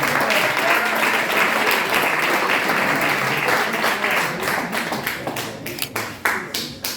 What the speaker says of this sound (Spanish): ¿Y qué tal si le damos un aplauso al Señor por la vida de...